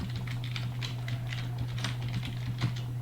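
Rapid clacking keystrokes on a noisy computer keyboard, steady and close, with a constant low electrical hum underneath and no talking.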